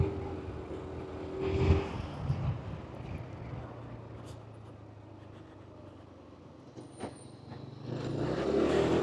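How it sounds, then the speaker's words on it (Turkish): A Kymco KRV200 motorcycle engine pulling under throttle up a hill, a low steady drone with wind rumble that swells at the start and again toward the end. "Gaz açarak tırmanıyorum."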